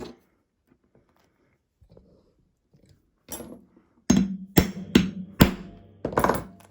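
A rivet cap struck with a setter tool on an anvil while making a satchel bag: after soft fumbling, about five sharp, loud metallic hammer blows land in an uneven rhythm, each ringing briefly.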